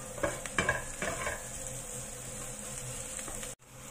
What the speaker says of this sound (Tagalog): Try lang muna natin yan hanggang sa maging brown